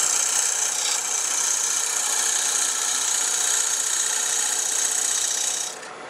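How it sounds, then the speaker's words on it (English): A wood-turning tool slices into spinning wood on a lathe, throwing off curls with a loud, steady, close rasping hiss that holds for about six seconds before easing off at the end. "This will cut wood."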